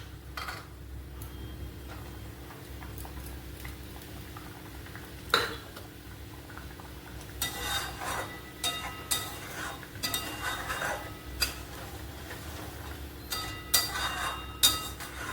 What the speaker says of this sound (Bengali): এই জলটা ফুটে উঠেছে, এবার আমি এর মধ্যে ঝিঙেগুলো দিয়ে দিলাম।